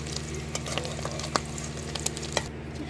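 Eggs sizzle and fry in hot oil in a pan, a steady crackling hiss dotted with sharp little pops and spatters, close and moderately quiet with no talking.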